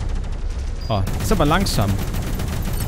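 Spaceship cannons firing in the space game Space Reign, a steady rapid rattle of shots running throughout under someone speaking German.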